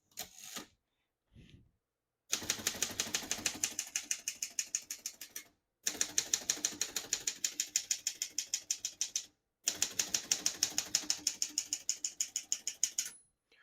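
Rapid, crisp keystrokes clack on a 1935 Corona Sterling manual portable typewriter in three long bursts, separated by short pauses, each strike sharp and mechanical.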